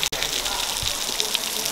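Waterfall in Zion National Park, pouring over ice-coated rocks into a lower pool, giving a steady broadband rushing wash that holds constant throughout, with a brief dropout near the start.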